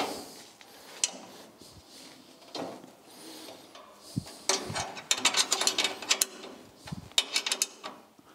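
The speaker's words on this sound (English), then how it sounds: "So let me bolt this down." Ratchet wrench bolting side steps onto an old rusty truck, rapid clicking bursts in short runs that grow busier toward the end, close and fairly loud, with light clunks between.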